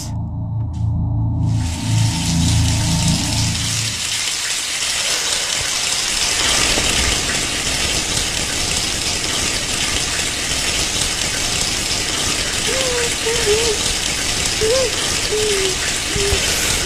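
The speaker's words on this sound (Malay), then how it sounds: "Air mencurah-curah atas kepala." Shower water pouring steadily in a bathroom, a continuous broad hiss that starts after a few seconds of lower rumble and runs on evenly, with a few faint squeaky tones near the end.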